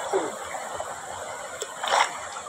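Water pours from the outlet of a shallow, waist-deep river in North Samar, a steady rushing splash with a brief louder surge near the end, and no clear talking.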